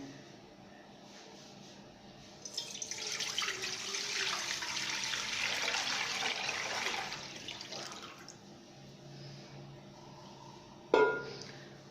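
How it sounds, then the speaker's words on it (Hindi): Water poured from a vessel into a cooking pot on a stove for boiling soaked rice to make sweet zarda rice; a steady splashing pour runs for several seconds, then a brief clink of metal near the end. "अब हम इसमें पानी डालेंगे राइस को बॉईल करने के लिए।"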